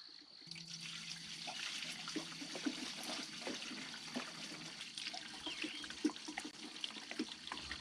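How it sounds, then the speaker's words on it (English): Water runs and trickles through a PVC pipe compost system in a steady, fairly faint splashing flow, with small drips and plops scattered throughout. "how the water drips through the system"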